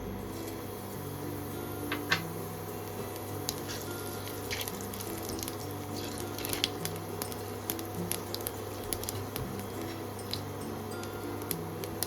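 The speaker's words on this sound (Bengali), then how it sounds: "তেল খুব ভালো করে গরম করে নিয়ে উপর থেকে দিয়ে দেবো হাফ চামচ কালো জিরে ও দুটো শুকনো লঙ্কা ফোড়ন" Black cumin seeds and two dried red chillies tempering in hot oil for a homestyle leafy greens dish, giving a faint, steady crackle with scattered small pops and drips, alone with no talk.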